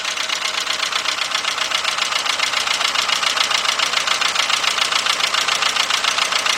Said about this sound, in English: Definitely got a misfire.